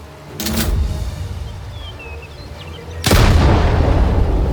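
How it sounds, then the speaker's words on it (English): Two heavy grenade blasts in the World War II shooter Classified France '44, a booming burst early on and a louder, sustained roar of explosion and debris from about three seconds, with low rumble between. "throw the little grenade to drop the guy"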